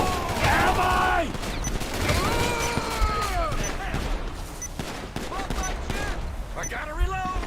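Rapid gunfire in GTA 5 crackles in bursts, with loud clustered shots and volleys spread across the scene, mixed with other game sounds and a voice talking.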